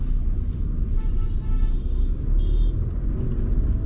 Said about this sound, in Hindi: अब मैं रेस देके अपनी गाड़ी को बढ़ा लूंगा।